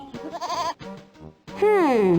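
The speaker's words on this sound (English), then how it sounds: "Hey, it's a goat." A cartoon goat bleats in the Putt-Putt adventure game, a wavering, voice-like bleat rising then sliding down, following short bits of animated speech.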